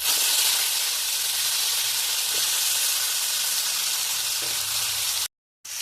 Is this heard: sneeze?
no